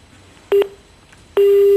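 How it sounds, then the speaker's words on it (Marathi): A telephone line cuts off during a call-in segment: a short pair of electronic tones sounds, a brief pause follows, then a steady, loud continuous tone holds to the end, like a disconnected-line signal. "हितेंद्रांचा फोन कट झालेला आहे."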